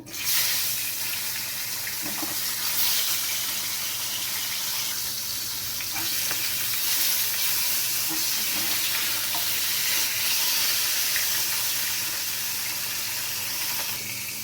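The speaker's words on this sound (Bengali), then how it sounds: "বাকি মাছগুলো আমি ভেজে নেব" Remaining pomfret fish frying in a pan of oil, a close, steady sizzling hiss with scattered spatters and utensil taps, no voices.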